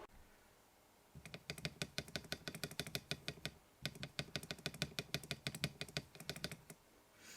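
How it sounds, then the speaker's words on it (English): Band-aid modded spacebar on a Tofu65 custom keyboard with AKKO switches, pressed in fast, repeated clacking bursts, crisp and close, with a short pause midway. "This is just the sound test of just the spacebar with band-aid mod"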